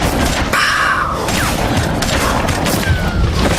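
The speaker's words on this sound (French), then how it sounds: "Et très vite derrière, des coups de feu." Several sharp gunshots crack out in quick succession during a prison escape, loud and close, with echoing booms and some clattering noise in between.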